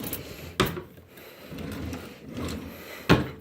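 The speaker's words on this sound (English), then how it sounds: "This is the drawer that you hear me use when I get the knife for unpackaging, unboxings." Silverware drawer in an apartment kitchen sliding open and shut, with two sharp wooden knocks near the start and end and soft rubbing, rattling movement between them, close and fairly quiet with no talking.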